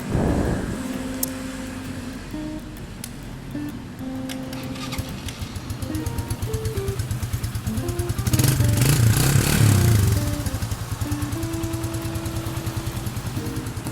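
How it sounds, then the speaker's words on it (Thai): A 2020 Stallion SM150 motorcycle with a stock engine idles smoothly and quietly, a soft even putter close by that rises briefly as if lightly revved and then settles back, with a faint high whine and no talk over it. "รถเครื่องเงียบมากนะครับผม นุ่มๆเลยขีดนุ่มๆนะครับคันนี"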